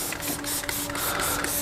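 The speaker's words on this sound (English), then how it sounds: "So we're gonna spray that in with EcoSmart." Concentrated EcoSmart cleaner is sprayed in rapid, evenly spaced hissing bursts, about seven pumps, onto the bonnet and engine bay of a 2020 Toyota Supra MK5, close and loud with no talking.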